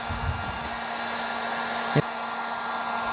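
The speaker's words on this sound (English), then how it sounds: "Gonna put a heat gun on it, heat it up a little bit, not too close" A heat gun blows on the body panel of a 1994 Chevy truck during dent pulling, a steady loud whirring hum of fan and air running alone with one small knock near the end.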